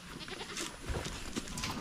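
Goats on a farm bleating faintly in the distance, a few scattered calls over steady background noise.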